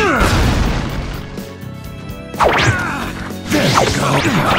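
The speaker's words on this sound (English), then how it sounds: "Fire style, fire buster!" A Fire Style: Fire Buster jutsu attack in a Naruto Ultimate Ninja Storm fighting game erupts in loud, dense crashing blasts with whooshing swells, a roaring burst at the start and two more surges later, with game voices mixed in.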